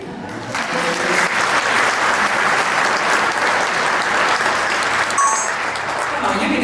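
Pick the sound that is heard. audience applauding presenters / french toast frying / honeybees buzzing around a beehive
audience applauding presenters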